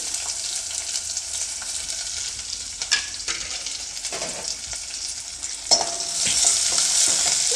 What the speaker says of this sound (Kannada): ಈರುಳ್ಳಿ, ಬೆಳ್ಳುಳ್ಳಿ ಮತ್ತು ಮೆಣಸಿನ್ಕಾಯಿನ ಹಾಕ್ಕೊಂಡ್ಮೇಲೆ 1 ನಿಮಿಷ ಚೆನ್ನಾಗಿ ಫ್ರೈ ಮಾಡ್ಕೊಳ್ಳಿ